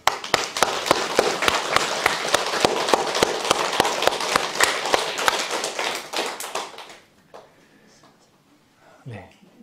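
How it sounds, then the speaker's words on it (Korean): An audience at a lecture claps hard and in unison, about twenty loud rhythmic claps in a steady fast beat lasting several seconds, then fading out into quiet murmurs. "박수 한번 세게 한 20번 치겠습니다"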